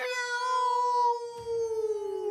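A cat gives a long, drawn-out meow that holds steady and slowly falls in pitch, loud and close, followed by a brief low rustle.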